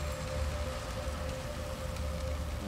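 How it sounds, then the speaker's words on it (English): Steady rain from an in-game rain effect in Dead Island 2, a dense even hiss of falling water with a faint sustained tone running beneath it, continuous and unbroken with no voices. "Let's do rain effect."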